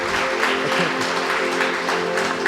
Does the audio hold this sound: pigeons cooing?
no